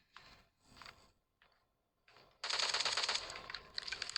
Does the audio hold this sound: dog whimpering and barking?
no